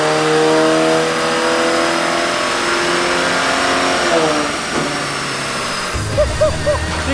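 Audi A4 with a REVO Stage 1 tune accelerating, a steady loud engine drone with rising tone that eases off near the end, followed by a few brief knocks and a short burst of nearby talk.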